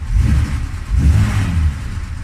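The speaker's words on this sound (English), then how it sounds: "I have it in neutral, parking brake on, idles nice and smooth" A 1969 Mercedes Unimog sits in neutral with the parking brake on, its engine running in a steady, low, smooth idle that fills the whole stretch at close range with mild pulsing swells.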